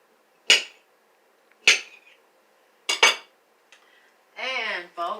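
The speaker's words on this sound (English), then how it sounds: "We want to do 2 cups of pineapple. So I'm cutting it up." A knife cuts up pineapple on a hard board, three sharp separate chops spaced about a second apart, then a brief clatter and a short voiced sound near the end.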